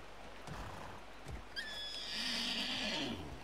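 A few soft hoof thuds come first, then a horse mount in the video game Far Cry 6 lets out a long, bright neigh that trails off, with hoofbeats continuing underneath.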